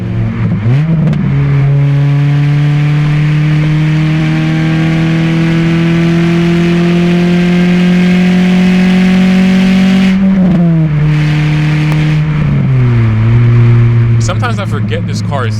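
A tuned Honda K24 engine drones through its exhaust while driving, a loud steady note that climbs slowly under revs, dips briefly at a gear change and rises again, with someone talking over it.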